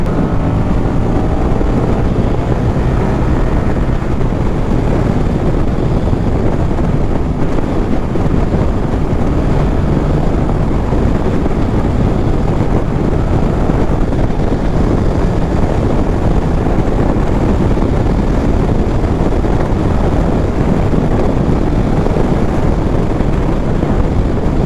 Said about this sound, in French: je roule assez vite et il y a beaucoup de vent